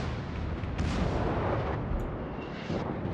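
Heavy naval gunfire from a Conqueror battleship firing HE shells in World of Warships booms loudly, with dense rumbling blasts and a few sharper cracks over a continuous roar.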